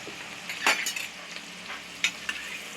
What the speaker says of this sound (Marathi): आणि हा कांदा छान लाल होईपर्यंत आपण परतूया